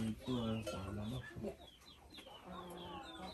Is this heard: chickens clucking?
yes